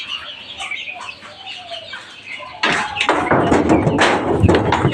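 Young chicks about a week old in a home coop call out, with small bird chirps and clucks running throughout and getting louder and busier in the second half.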